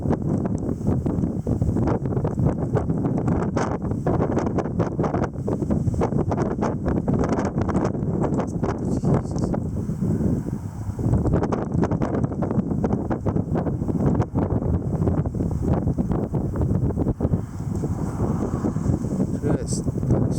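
Strong April wind storm gusts roar continuously into the microphone in dusty conditions, a loud, buffeting rush that surges and eases with barely a pause.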